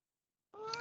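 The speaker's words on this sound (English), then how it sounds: "It's meowing." A cat meows once, starting abruptly after a stretch of silence: a short, close, fairly loud tonal cry with clear harmonics, heard alone.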